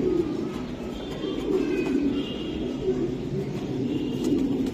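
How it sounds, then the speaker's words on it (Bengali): Breeding racer pigeons coo steadily in repeated low throaty phrases at a close distance, with faint background hum and no clear talk. "এটা হলো ব্রিডিং কবুতর ভাই"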